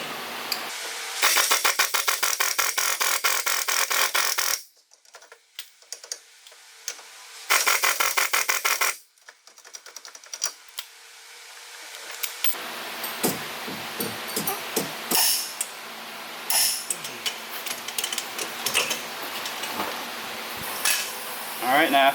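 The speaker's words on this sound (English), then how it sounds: "I'm just going to run it up with the impact." An impact wrench runs a nut up on a 2005–2014 Ford Mustang brake install, giving two loud sustained buzzing bursts close by, followed by clinks and handling of metal parts.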